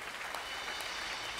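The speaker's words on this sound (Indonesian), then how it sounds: "Tepuk tangan buat Tuhan." Faint applause from a congregation during a church service, a soft, continuous patter of clapping heard at a distance.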